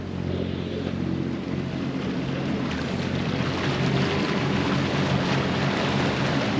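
A 2022 HCB 53 Suenos powerboat running out to sea on a choppy day, a steady, loud engine drone mixed with rushing water and wind that holds constant throughout, with no voices.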